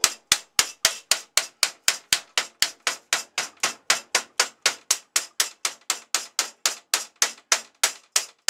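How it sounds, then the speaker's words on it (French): A mallet strikes a folded sheet metal box, made by hand without a bending brake or welding: about thirty sharp, evenly spaced metallic blows in a steady rhythm, close and loud, with no voices. "Avec un maillet pour essayer de ne pas faire trop de traces."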